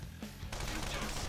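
A gun attack fires in Persona 5 Royal as a sudden burst of rapid gunfire that begins abruptly and rattles on loudly to the end, with no talk over it.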